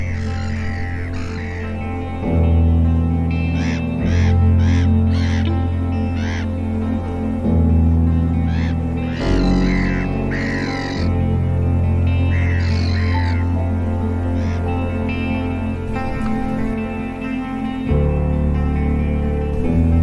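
Seagulls squabble over a hawk's prey at a lake, giving loud repeated calls and cries over a steady low background rumble.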